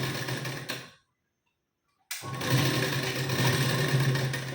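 A domestic sewing machine stitching a katori blouse seam, a steady fast whir of stitching that stops for about a second of silence, then resumes at a steady, slightly louder pace.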